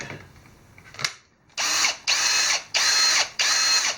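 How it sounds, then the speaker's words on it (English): A nine-year-old, heavily worn Milwaukee cordless drill whirs in four short bursts, each revving up and cutting off with brief pauses between, close and loud after a faint click. "I've had that drill for 9 years and have just absolutely abused it to death"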